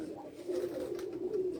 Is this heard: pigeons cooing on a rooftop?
yes